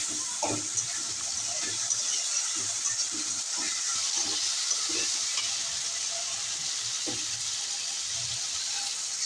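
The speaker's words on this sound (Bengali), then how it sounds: "এখন দিয়ে দিলাম পরিমাণ মতো পানি" Water poured into a hot cooking pan holding ginger-garlic paste, for a chicken gizzard and liver curry, makes a steady, close hiss and sizzle with scattered soft knocks and splashes.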